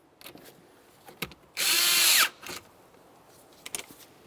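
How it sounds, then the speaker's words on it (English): A power tool drives a 10mm nut onto a battery terminal of a 2004–2010 BMW X3 in one short burst of about a second. Faint clicks and handling noises come before and after it. "tighten your 10mm nut"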